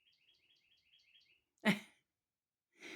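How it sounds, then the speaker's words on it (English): Small birds chirp outdoors on a sunny day in a quick, faint series of high tweets, followed by a couple of louder, closer noisy bursts. "You think the birds are happy the sun is shining?"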